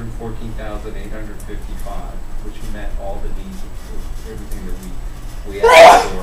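A single loud, sharp sneeze bursts out near the end of a county commissioners' meeting, cutting in after a man's steady speech about bid amounts in a room with a low background hum.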